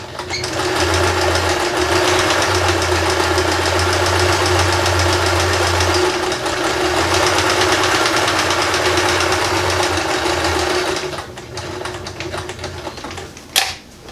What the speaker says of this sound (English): I'm going to attach this with the satin stitch